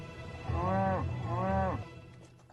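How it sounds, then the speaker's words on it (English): Cattle low twice in succession, two long drawn-out moos close to the listener, each swelling and then fading, with a quieter tail of ambient noise afterward. "Could these cattle be a target for terrorists?"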